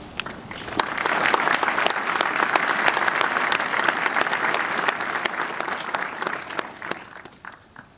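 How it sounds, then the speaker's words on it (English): Sustained applause from a large crowd at a university graduation ceremony, a dense patter of clapping that swells and holds steady before tapering off at the end. "will you please join me in giving a big round of applause to them"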